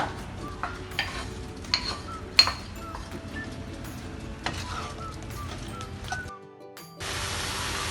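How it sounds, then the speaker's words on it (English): Apples and strawberries cooking together in a pan for an apple cinnamon pie filling, with soft stirring and a few light utensil clinks over a low steady bubble; a quieter gap near the end, then a broad hiss returns. "Cook the fruits together for 2 to 3 minutes and then off the heat"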